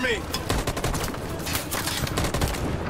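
Rapid automatic gunfire from the video game Detroit: Become Human, loud and dense bursts of shots rattling continuously for the whole stretch, with a faint voice briefly underneath.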